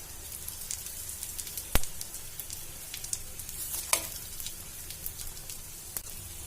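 Egg-soaked bread slices fry in hot oil for bread pakora, a steady close crackling sizzle with scattered pops and a sharp tap or two, no talk.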